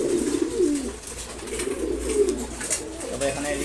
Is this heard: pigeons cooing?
yes